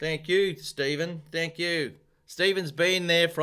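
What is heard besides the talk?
No distinct noise like a dog, phone or traffic.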